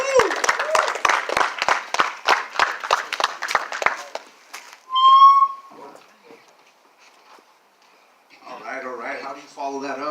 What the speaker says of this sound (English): Let's get a round of applause for Cesar.